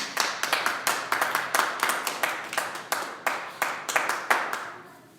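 A church congregation clapping in loose, uneven bursts that swell and fade, many hands applauding together with no voices over it.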